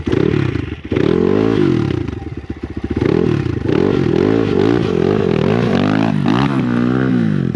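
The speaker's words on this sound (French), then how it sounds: "Bon, Didi, c'est la première fois qu'il découvre la moto." Dirt bike motorcycle on a legal spot during wheelie practice, engine loud and close with repeated revving and rising and falling pitch, a brief sputtering patch, running steadily throughout.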